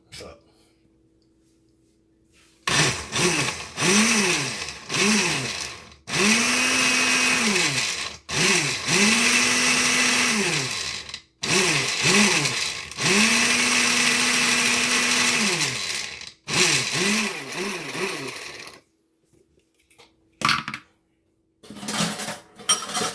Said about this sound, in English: We're gonna pour a little water in our blender, and we're gonna blend this in up